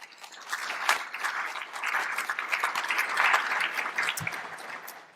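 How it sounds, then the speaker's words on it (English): An audience applauds, a dense crackle of many hands clapping that holds steady for several seconds. "So I want to offer again a quick round of applause to all the students, faculty, and administrators in the room."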